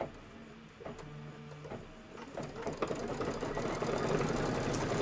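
An embroidery machine stitches out a Kimberbell Cup of Cheer design, a steady mechanical whirring and clatter that builds in loudness and density over a few seconds, close by with no talking.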